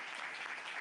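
A crowd in a courtroom applauding steadily, dense clapping filling the whole moment at moderate loudness with no voices standing out.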